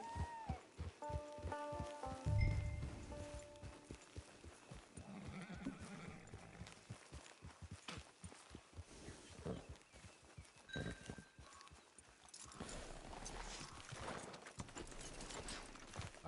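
A horse in the Red Dead Redemption 2 video game whinnies, then its hooves clip-clop in a steady walking rhythm, moderately close with faint background ambience.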